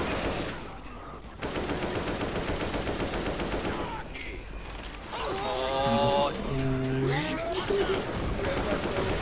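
Rapid automatic gunfire in the zombie shooter Left 4 Dead 2, dense continuous rattling shots with mechanical reload clicks, with players talking over the game sounds.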